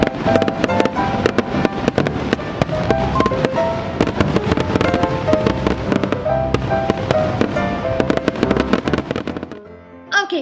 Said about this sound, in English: me and my family love to go see all the awesome fireworks